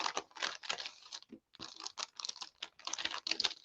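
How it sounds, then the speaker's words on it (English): Paper or packaging crinkles during a junk-journal tag and card crafting session: irregular, close, crackly bursts with one brief pause, no voices. "Sorry, I'm crinkling."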